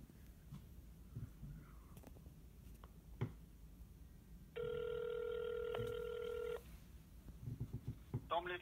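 During a phone call to a number, a single ringing tone sounds for about two seconds in the middle, amid quiet speech and small handling noises before and after.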